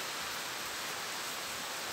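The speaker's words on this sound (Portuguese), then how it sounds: "Eu vou mostrar um pouco da chuva aqui." Rain falling outdoors on a June day under a white sky, a dense, even hiss of steady downpour that fills the whole moment with no voices over it.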